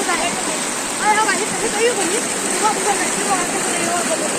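Floodwater rushes steadily across a field of sugarcane after heavy rain in Solapur, a broad continuous wash of flowing water close by, with voices talking over it.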